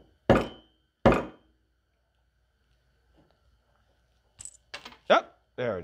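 Knocking on a mini bike carburetor to dislodge the jet, two sharp knocks close by, then quieter clicks and rattling of small metal parts after a pause.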